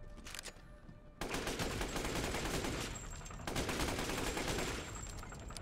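Rapid, nonstop gunfire from a video game firearm with infinite ammunition in Resident Evil Village, loud and close, bursts of repeated shots with a brief pause near the start and another short break midway.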